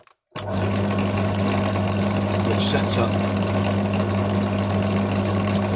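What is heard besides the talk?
pillar drill running, shaking resin mold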